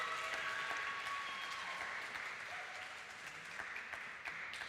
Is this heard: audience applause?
yes